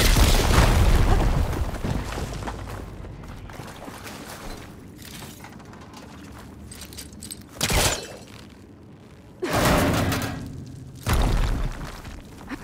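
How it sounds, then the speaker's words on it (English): A fire blade blown up in Horizon Forbidden West: a heavy rumbling blast that swells loud and decays, then several shorter booming bursts follow with quieter gaps between them. "Could be able to blow up that fire blade."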